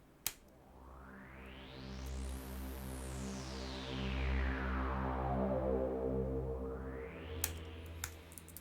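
A soft synth sweep from Logic Pro's EXS24 rises steadily to a bright peak, then falls back down over a sustained low drone, with a second upward sweep starting near the end.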